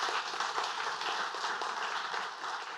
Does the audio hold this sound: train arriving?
no